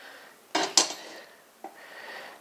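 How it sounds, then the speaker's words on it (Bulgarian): A utensil scrapes and clinks against a cooking pot as the last broth is scooped out, two sharp metallic knocks followed by a softer clank, close and without talk. "Да оберем от тенджерата какво е останало."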